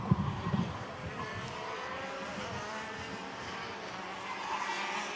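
Racing karts on a racetrack during a KZ2 final, engines buzzing and whining together at a distance in a steady continuous drone, with no talk over them.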